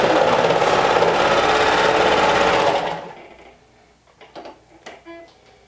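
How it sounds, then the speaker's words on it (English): A sewing machine stitches a short-end loop seam in fabric with a rapid, steady whirring drone for about three seconds, then stops, leaving a few quiet clicks and handling taps. "I'm going to sew it in a loop just by bringing the right sides together, the short ends, and sewing it with a 1/4 of an inch."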